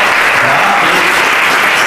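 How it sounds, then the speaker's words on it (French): An audience applauds at the closing session of a day-long event, a dense, loud, continuous clapping that stays even throughout, with no voices over it. "je crois qu'on peut encore l'applaudir"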